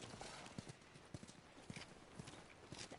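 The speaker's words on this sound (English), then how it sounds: "You guys have horses." Horse hooves clip-clop in the video game The Last of Us, a faint, uneven series of hollow knocks over a quiet background.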